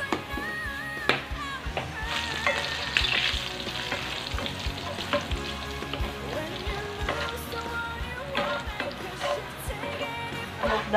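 Garlic sizzles and crackles loudly in a hot pan while being stirred for a mushroom sauce, with steady frying hiss and occasional scraping clicks, close up and without talk.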